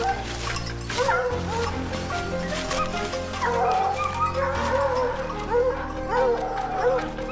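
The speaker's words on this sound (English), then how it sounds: "The dogs seemed tireless as they chased the boar back in our direction." Hunting dogs bark and yip in excited bursts while chasing a wild boar through cold countryside, moderately loud with whimpers mixed in over a steady rushing background.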